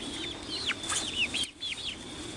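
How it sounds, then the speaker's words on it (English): Backyard hens clucking nearby in a small flock with new chicks, giving a quick run of short, rising and falling clucks over a faint steady background hum. "Would you like to see the chickens?"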